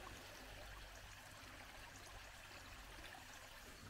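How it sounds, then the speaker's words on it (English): Clear water flowing over rocky bedrock at the upper end of a creek, a steady, close rushing wash with no voices. "Water flowing here. When it flows on the bedrock, on this rocky surface, it's actually clear."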